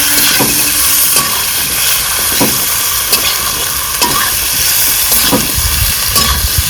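Food being stirred and sautéed in a pan in a village kitchen, a steady sizzle with periodic scraping stirs, close and fairly loud with no talking.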